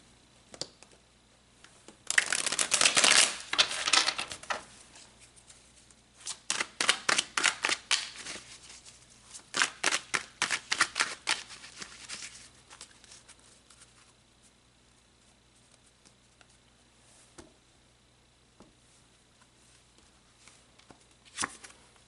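Tarot cards shuffled and pulled during a love reading, giving bursts of rapid riffling flutters in the first half, then scattered single card snaps and soft slides fading to near quiet.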